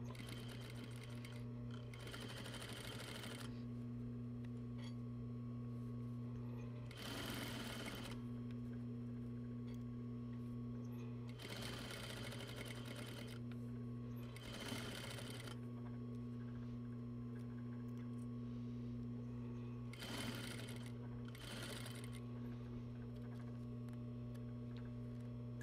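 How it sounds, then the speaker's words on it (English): A sewing machine stitches a zipper seam in several bursts of a few seconds each, separated by pauses, over a steady low mains hum. "Beginning my stitching at the bottom of the zipper."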